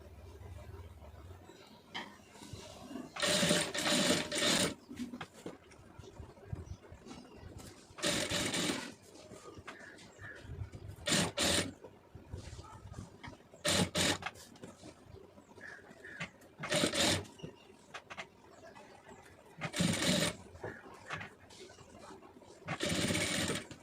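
A sewing machine stitches fabric piping in quick bursts of rapid mechanical chatter, each run lasting a second or so between quiet pauses while the fabric is adjusted, heard up close.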